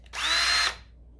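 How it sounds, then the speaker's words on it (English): A power drill whirs in one short, close burst of about half a second, spinning up quickly and cutting off, followed by quiet with a faint click. "Next we use a drill."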